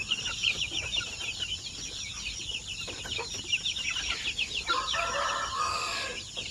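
Chickens, about two months old, cluck and a rooster crows repeatedly at close range on a poultry farm, with a steady chorus of calls and no talking.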